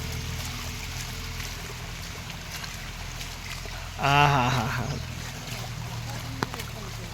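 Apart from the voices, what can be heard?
flowing stream water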